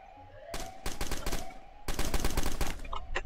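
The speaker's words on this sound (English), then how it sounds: "Oh, we got shots. We got shots fired." Rapid bursts of gunfire crack out in a video game roleplay with SWAT and police on scene, two dense volleys of many shots in quick succession, loud and close, with a brief lull between them.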